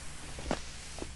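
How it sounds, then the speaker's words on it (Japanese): A player character in the mobile battle-royale game Knives Out runs, and a couple of soft footsteps sound against a steady low background hum. "走ったらもうすげえ足音になるもん。"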